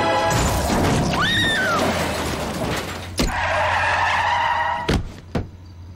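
In a movie scene a racing car skids with long tire squeals over engine noise, followed by sharp impact thuds and bangs, loud and close, with no talk.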